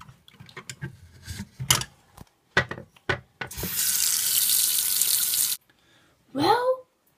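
A water tap runs into a sink in the video game Life of Beary, a steady loud gush lasting about two seconds after several clunks and knocks, followed by a short vocal sound.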